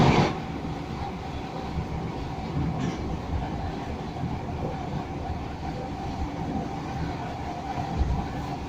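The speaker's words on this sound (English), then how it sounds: "there's a 3-car carriage train" A three-carriage Class 313 Coastway Southern train runs between Chichester and Barnham toward Littlehampton, giving a steady rumble with faint rail clatter that holds even and continuous throughout.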